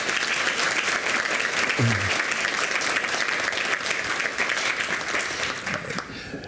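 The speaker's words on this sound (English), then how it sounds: "I'd like us all to give one more round of applause to all of our Human Rights Award recipients this year" Sustained applause from the audience at the 40th Annual Human Rights Awards ceremony, honoring the year's award recipients; dense, steady clapping fills the whole stretch and eases slightly near the end.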